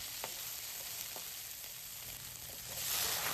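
Garlic fries in a pan over a fast gas flame, giving a steady close sizzle with faint stirring ticks and a slight swell in hiss toward the end.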